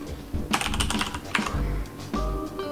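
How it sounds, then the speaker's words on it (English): Fast typing on a computer keyboard, close and loud: dense bursts of key clicks with short pauses between them, followed by a low electronic hum at the end. "Start typing Studio One"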